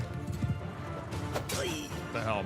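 In a Genghis Khan-themed strategy game, horse hooves clatter in a rapid galloping clip-clop amid battle noise, with a brief whinny and crashing impacts mixed in.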